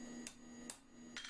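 Three sharp metallic hammer strikes on a stud punch, worked on a lantern bracket, ring out at an uneven pace against a quiet background hum, each tap brief and close.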